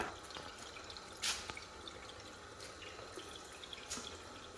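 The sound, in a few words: water filling and dripping through charcoal water filters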